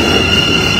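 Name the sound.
train arriving at station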